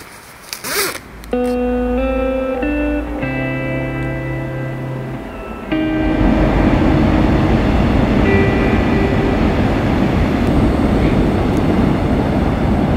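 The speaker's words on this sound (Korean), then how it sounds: "바로 뒤에 기차가 다녀요." A train rumbles past close behind a small Casper car parked for a cold winter night of car camping, with a horn-like tonal blast at the start, then a loud, broad, sustained roar of rolling wagons that swells and continues steadily.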